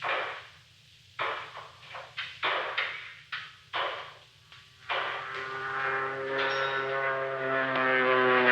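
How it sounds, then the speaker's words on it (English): A small propeller plane flies low overhead in an old 1949 film. Choppy bursts of noise give way to a rising, sustained engine drone that grows louder toward the end. "It isn't the mail plane. It's a small job, listen. Flying low, too. Sounds like it's hedge hopping."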